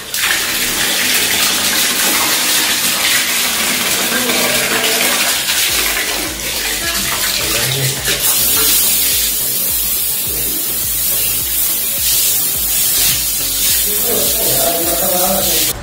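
Water gushes hard and steady from a tap fed by a home pressure booster pump, a loud continuous rushing spray that shifts in tone partway through, with no talk.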